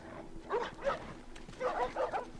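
Dogs in the video game The Last of Us barking and yipping in two short bursts, each a quick run of sharp barks at moderate distance over a low steady hum, with a pause between.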